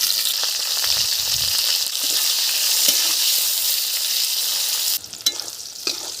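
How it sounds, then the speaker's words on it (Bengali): Eggplant slices frying in a pan of oil give a loud, steady, close sizzle that carries on without a break, with a few soft stirring knocks near the end. "এখন বেগুনগুলো ভেজে নেব।"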